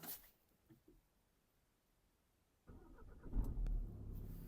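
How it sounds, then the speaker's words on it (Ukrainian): A Renault Grand Scenic 1.5 dCi diesel engine with automatic gearbox cranks and catches after a quiet stretch, then settles into a steady, close idle with a low diesel rumble. "Давайте запустимо двигун."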